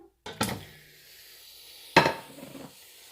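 A pan set down on a kitchen stove burner over medium-high flame: two separate clattering metal knocks about a second and a half apart, close and fairly loud, with quiet room tone between and no talking.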